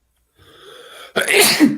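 A single loud, close human sneeze with a drawn-in breath before the sharp burst, heard alone.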